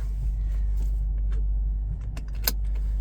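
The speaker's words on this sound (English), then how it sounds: "Do my seatbelt up" A seatbelt is buckled inside a supercharged V8 TOM'S Racing Toyota Celsior, with soft rustling and light metallic jingles over a low idling rumble, ending in one sharp, close click.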